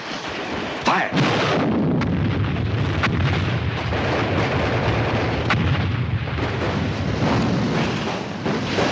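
Sustained battlefield gunfire and artillery from a 1953 war film about paratroopers, a loud continuous roar of shots and blasts with sharp individual cracks standing out throughout.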